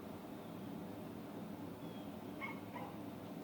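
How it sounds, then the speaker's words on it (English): A dog gives two short, faint yips or whimpers from a distance, late in the moment and barely above a steady background hiss. "That dog agrees with me."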